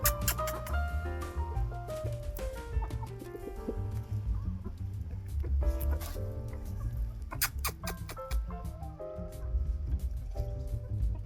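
Chickens cluck and murmur close by, a busy overlapping chorus of short calls with occasional louder squawks.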